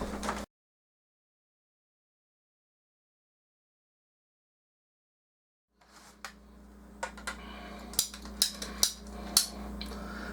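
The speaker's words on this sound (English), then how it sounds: "This is why you get the ratcheting, wonderful cutters and not a hacksaw." Ratcheting cutters working through PVC pipe: a series of sharp, close clicks and snaps grows louder as the blade ratchets through, following a stretch of silence.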